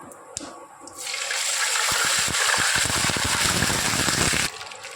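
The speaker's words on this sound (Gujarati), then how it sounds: "તો આપણે પાણી નાખી દઈશું ગેસની ફ્લેમ બંધ કરીને" Water gushes into a cooking pan for a stuffed gunda gravy curry, with the gas flame turned off. A steady, loud pour runs for about three and a half seconds, then cuts off.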